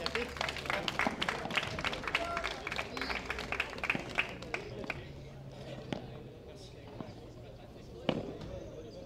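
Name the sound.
audience applauding player at padel tournament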